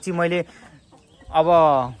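A fighter-breed hen kept for breeding clucks up close in two drawn-out, strained calls, each about half a second long, separated by a brief pause.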